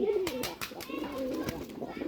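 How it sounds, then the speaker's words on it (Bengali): A pair of pigeons coo softly, the throaty, repeated calls rising and falling in quick succession against a quiet background. "অনেক সুন্দর এক জোড়া কবুতর, অনেক সুন্দরভাবে ডাকাডাকি করে"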